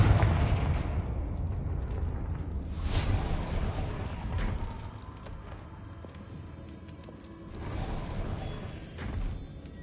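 Confringo spell blasts in the Hogwarts Legacy video game, several booming explosions with whooshing bursts over a dense rumbling game soundscape, loud and close, with no talk over them.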